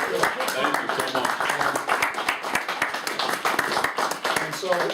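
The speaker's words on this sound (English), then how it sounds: "Let's give a round of applause" A room at an annual budget meeting breaks into a round of applause, with dense clapping running throughout and a voice speaking over it.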